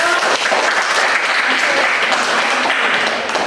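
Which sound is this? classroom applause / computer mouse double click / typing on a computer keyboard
classroom applause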